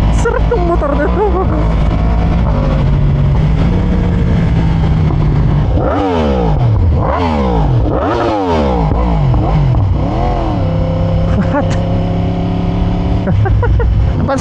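A Yamaha R1M sport motorcycle engine revs hard while being ridden, pitch climbing and dropping through several quick-shifted gear changes, loud and close throughout with no talking.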